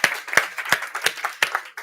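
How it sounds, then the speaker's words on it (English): A small audience at a health event pitching session claps in a sparse, uneven rhythm, with individual claps standing out rather than a full roar. "Give them a round of applause anyway."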